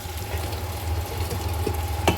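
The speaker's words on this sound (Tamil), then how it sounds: "இப்போ நம்ம தக்காளி போடணும். தக்காளி போட்டு தக்காளி நல்லா மசியணும்." Tomatoes frying and being stirred in a pan while cooking homemade chicken biryani, a steady soft sizzle with a few scraping stir sounds and a sharper clink near the end.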